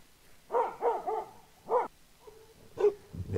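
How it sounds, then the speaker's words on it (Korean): A Jämthund, the Swedish elkhound hunting dog, barks at an elk: a quick run of three sharp barks, a pause, then another bark and a final one, fairly close and alone. "엘크를 발견하고 짖는 모습입니다."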